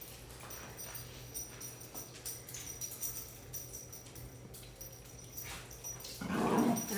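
Dogs, a pair of brothers, make faint, scattered sounds in a kitchen, low under a steady background hum, then a louder burst near the end.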